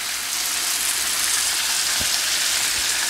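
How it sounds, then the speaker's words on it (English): Bacon sizzling on a Steelmade griddle, a steady close hiss and crackle that holds level throughout with a couple of soft clicks and no talking. "This bacon is going to cook up pretty quick."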